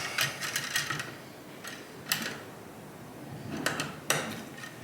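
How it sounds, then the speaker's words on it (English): Bottom clamp being tightened during wire stripping at the rough-in stage: a few clusters of quick metallic clicks and ratcheting ticks, close and moderately quiet over a low background hum, with no speech. "And then we'll tighten our bottom clamp."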